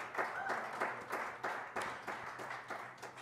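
An audience at a jazz club claps for a musician, the applause moderately loud and pulsing in regular surges about twice a second, as if clapping in rhythm.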